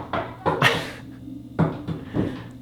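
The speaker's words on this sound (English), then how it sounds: "That is my son knocking on our basement door trying to talk to me." A child knocks on a basement door, sending a few uneven, hollow wooden thumps and raps in loose clusters, fairly close, with faint background hum between them.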